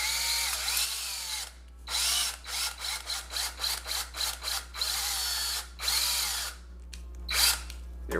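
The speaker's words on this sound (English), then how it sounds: "I'm going to go ahead and chuck it into my drill here on one end" A power drill spins lengths of chassis wire clamped in its chuck to twist them together, running in a long whine followed by a series of short rhythmic bursts, close and loud, with no voices.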